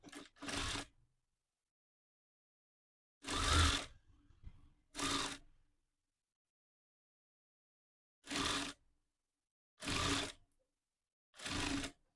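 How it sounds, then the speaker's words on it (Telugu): A sewing machine stitching piping on a blouse runs in six or seven short whirring bursts, each lasting under a second, separated by quiet pauses. It sounds close and clear, with no voices. "ఈ పైపింగ్ని లోపల వైపుకి తిప్పి స్టిచ్ చేసుకోవాలి"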